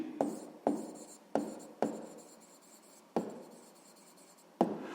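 A math solution written by hand, with six distinct pen or chalk strokes each striking sharply and trailing off in a scratchy scrape, close and quiet with pauses between, no talking.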